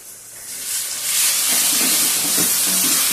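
A tomato spice paste for chicken curry hits a hot pan, the sizzle swelling into a loud, steady hissing rush within the first second and holding close and bright.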